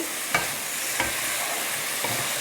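Potato and green banana stir-fried in a pan, a close hiss of hot oil broken by three short stirring strokes.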